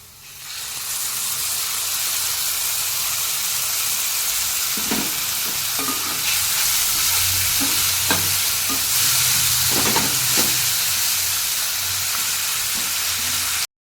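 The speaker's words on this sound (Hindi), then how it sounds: "अदा रसुण पेस्ट आमर भाजी हो गला भलसे" Ginger, garlic and peanut paste frying in a pan with a loud continuous sizzle, broken by repeated scrapes and taps of stirring; no voices.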